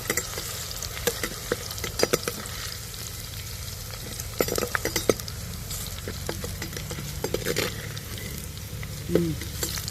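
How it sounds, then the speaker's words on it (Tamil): Garlic fries in oil for a fish curry while a spoon stirs it around the pan; a continuous sizzle carries repeated sharp scraping clicks of the stirring, moderately close, with no talk. "பூண்டு நல்லா வரட்டுங்க, நல்லா செவக்கட்டும்."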